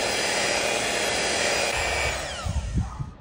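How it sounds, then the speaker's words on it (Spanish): Power mixer whipping honey produces a continuous, fairly loud motor whir that holds steady, then winds down and stops, leaving a few soft knocks at the end. "Y ahora vamos a batirla durante 10 minutos."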